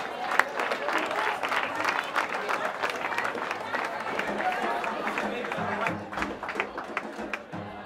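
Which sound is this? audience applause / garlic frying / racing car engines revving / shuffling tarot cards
audience applause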